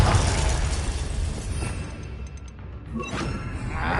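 A Confringo blasting curse from Hogwarts Legacy bursts with a loud crashing, shattering blast and a whoosh. Crackling debris keeps going after it, then a second burst of noise comes near the end.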